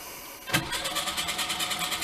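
A Lada 2102 engine cranks over on its first start after sitting: a sudden starter engagement followed by a steady, rhythmic chugging pulse of the turning engine, close and loud.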